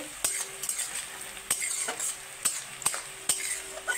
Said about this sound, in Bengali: এই যে আমার পেঁয়াজগুলো ভাজা হচ্ছে।